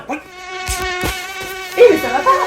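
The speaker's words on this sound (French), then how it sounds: "Il y a des moustiques sur ta cuisse." Insects buzzing close by in a video game, a sustained high, harmonic whine that rises and swells toward the end, with brief clicks and rustles mixed in.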